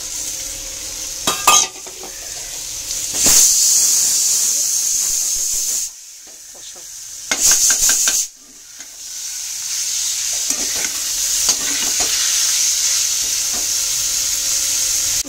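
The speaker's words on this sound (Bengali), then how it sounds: "ভালো করে কষিয়ে এবার এখানে এই যে কেটে রাখা চিকেনটা এর মধ্যে দিয়ে দেব।" Chopped chicken sautés in a hot pan with spices, giving a steady sizzling hiss broken by several bursts of scraping stirring and brief quieter gaps, heard up close with no voices.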